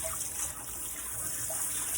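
A kitchen towel is rinsed under a running tap, a steady close hiss of flowing water with faint splashing, continuous throughout with no talking.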